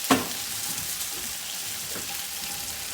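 Kroppkakor, Swedish potato dumplings, sizzle and spit steadily in hot fat in a skillet, a close, continuous frying hiss that opens with a sharp clatter as one is set in the pan.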